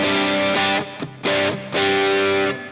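Distorted electric guitar through a Sheriff overdrive pedal plays sustained chords in a few strummed bursts, crunchy and saturated, with brief gaps between them.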